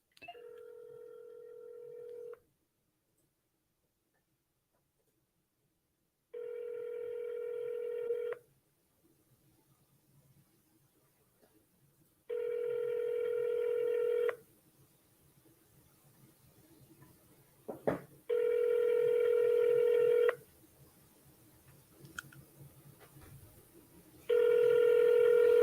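Outgoing phone call ringback during a cold call to a for-sale-by-owner seller: five evenly spaced ring tones, each about two seconds, separated by silent gaps, clear and alone with faint background hiss.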